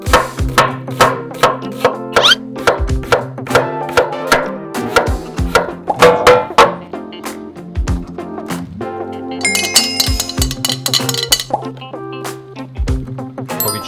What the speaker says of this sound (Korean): 양파는 최대한 얇게 슬라이스 하겠습니다